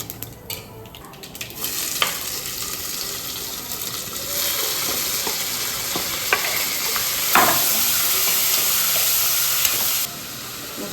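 Mustard seeds and dried chillies frying in hot oil for sambar, a continuous close sizzle that grows louder, with scattered sharp pops and stirring scrapes, no talk.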